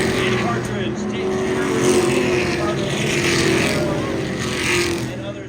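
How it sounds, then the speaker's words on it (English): Race cars circling Kern Raceway in a 2025 season race, a steady, loud engine roar that swells and fades as they pass, with an announcer talking over it throughout. "as you can hear these cars go around Kevin Harvick's Kern Raceway"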